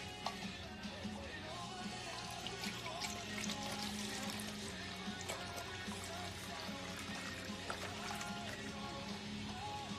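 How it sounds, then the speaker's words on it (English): Almond milk is poured into a saucepan as a soft, steady liquid trickle and splash, faint and close, with no voices. "I'm gonna put 2 1/4 cups almond milk into my saucepan."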